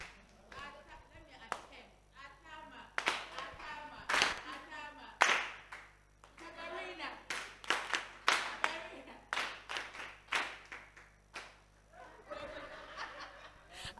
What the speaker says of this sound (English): So please, let's clap.